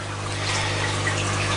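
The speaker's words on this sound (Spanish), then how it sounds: "Le vamos a rellenar el recipiente" Water poured to refill a small betta fish container with a thin tubing like the one used for an aerator, a steady close trickle over a constant low hum.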